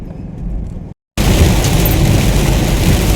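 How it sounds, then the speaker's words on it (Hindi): Heavy rain pounding down during a road trip from Puri, a dense steady roar that drops out for a moment and then returns loud and unbroken. "बड़ा तेज झमाझम बारिश हो रही है"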